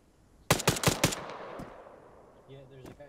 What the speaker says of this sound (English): there's a guy shooting from there.